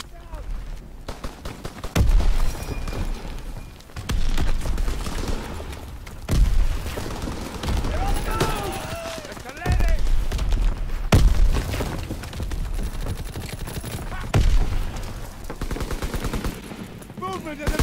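Gunfire in the World War II shooter game Call of Duty WWII: loud, close bursts of rifle and machine-gun shots with heavy booms, repeating in clusters.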